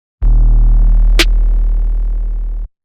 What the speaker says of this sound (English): With the main snares, I've got two different snares being layered together.